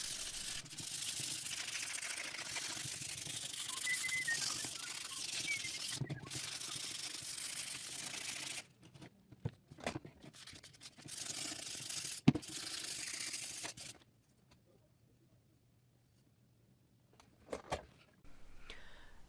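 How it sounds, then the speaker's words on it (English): Hand sanding a 1095 steel hunting knife blade, a steady, faint, hissing rub in continuous strokes, then broken into short scattered scrapes before going mostly quiet. "so I started sanding again. And it, again, took forever."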